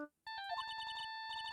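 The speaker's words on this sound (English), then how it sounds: "All of a sudden, the phone began to ring." A cell phone rings in the Ace Attorney video game, a bright electronic melodic ringtone of rapid repeating beeps after a short tone, moderately loud with no talking.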